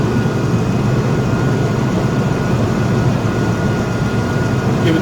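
A vehicle engine runs at raised RPM during EGR diagnosis, a loud continuous low drone that holds steady throughout.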